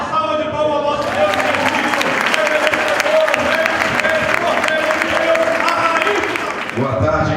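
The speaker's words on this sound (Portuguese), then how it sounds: "Uma salva de palmas ao nosso Deus" Church congregation at a Baptist seminar claps together in praise to God, loud continuous applause with music or voices faintly underneath, tapering at the end.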